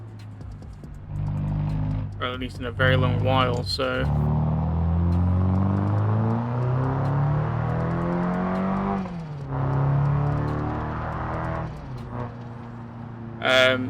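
Video game car, fitted with a full kit and wheels on an old four-lug chassis, revving and pulling away; the engine note rises and falls steadily over most of the stretch while someone talks over it.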